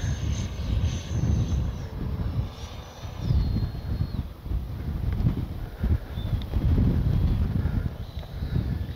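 An RC E-flite or Freewing F-16 70mm EDF jet passes on a very windy day in a steady whooshing rush that swells and fades several times, with wind buffeting the microphone throughout.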